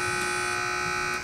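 An electronic buzzer at a high school Hi-Q quiz match sounds one steady, loud, harsh tone that holds flat for over a second, with no talking.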